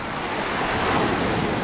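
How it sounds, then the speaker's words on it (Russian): Sea waves breaking at a river mouth in Adler, Sochi, against a counter-current, a loud, steady roar of surf with wind noise filling the whole moment, no voices. "Из-за этого течения вот так вот ломается волна."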